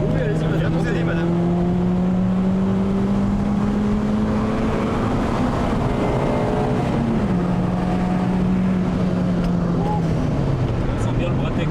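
A homemade boosted Peugeot 206 RC with a hot stainless-steel exhaust drones steadily from inside the cabin, its engine note rising and falling through gear changes, with occasional talk over it.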